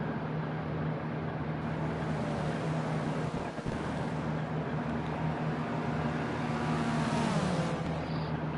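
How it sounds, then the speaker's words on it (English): Indy Lights race cars drafting in a racing video game, a steady droning engine hum with whooshing wind-like noise, continuous and moderate, the pitch shifting slightly near the end. "practically bump drafting here in the Indy Lights cars"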